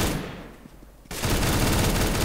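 Negev machine gun firing in Counter-Strike: Global Offensive, a dense sustained burst that starts abruptly partway through and roars loud and continuous to the end after a quieter stretch.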